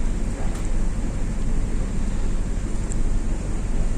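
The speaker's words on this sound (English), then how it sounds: "listen to the wind." Wind at sea on the North Atlantic Ocean in bad weather, a loud, continuous roar and buffeting rumble without pause, with no voices.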